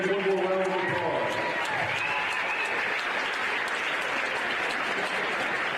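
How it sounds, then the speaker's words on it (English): Crowd applauding in a high school basketball gym during a Lutheran vs Covenant Christian game, a steady, dense wash of clapping that lasts several seconds with a few voices mixed in at the start. "Let's give these young kids one more round of applause."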